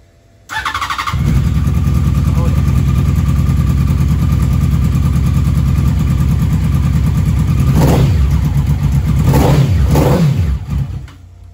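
Car engine cranks and fires up, then revs unevenly and struggles to settle into an idle, a loud close rumble with several sharp rev bursts near the end before it cuts out.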